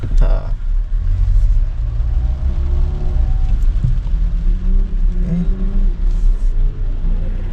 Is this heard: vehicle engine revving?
yes